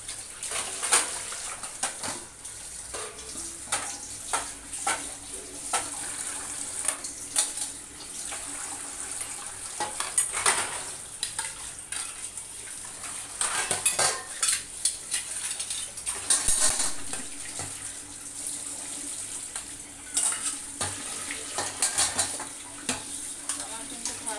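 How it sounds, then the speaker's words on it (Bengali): Metal mixing bowls being rinsed and washed one by one by hand with water in a home kitchen, with steady splashing, scraping and clinking of metal that rises in irregular bursts across the clip. "আমি এখানে পরিষ্কার করে এগুলো এক এক করে ধুয়ে নেব।"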